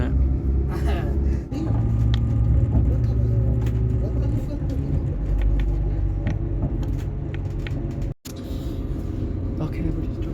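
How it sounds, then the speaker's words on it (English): A car drives along a road, its steady low rumble continuing under a person talking, with one brief cut near the end. "Okay, we're just driving into Lowmore right now."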